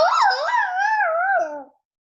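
Human voice imitating a sea lion call with a single wavering, yodel-like howl that slides up and down in pitch, loud and close, then stops abruptly.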